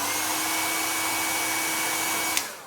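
A heating tool blows with a steady whooshing drone while warming the corners of a device skin during installation, constant and close, ending with a small click as the airflow winds down.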